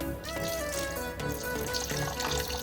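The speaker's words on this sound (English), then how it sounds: "the only other things that we're going to add in here is about 100 or so mils of apple cider vinegar" Apple cider vinegar poured into a pot of chilli jam with roasted garlic and caramelised onion, a short, close, gurgling splash of liquid heard on its own.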